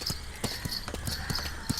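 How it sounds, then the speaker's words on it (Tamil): A horse's hooves clip-clop on a beach at Kozhikode, a quick, fairly close run of sharp hoof strikes with no talking over them. "கோழிக்கோடு பீச்சில் நம்ம கூட்டுக்காரன் சாப்பிளனோட குதிரை எப்படி இருக்கு சகாவே?"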